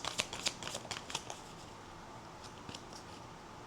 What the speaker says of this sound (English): You guys saw me just shuffle, right?